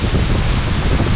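Wind gusts at the Cachoeira da Fonte waterfall in Faxinal, Paraná, giving a steady, loud broadband roar that mixes gusting air with rushing falling water, with no talking.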